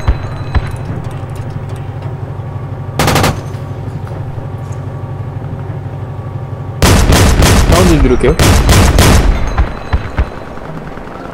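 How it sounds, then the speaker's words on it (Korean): Bursts of rapid automatic gunfire in the video game Battlefield 2: Project Reality, a short volley early on then a longer loud barrage, with a voice speaking briefly over steady game background noise. "앞에서 총소리 계속 들리는데"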